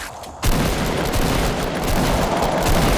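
Rapid video game gunfire erupts abruptly after a brief quiet moment, then continues as loud, dense, unbroken bursts of shots until the end.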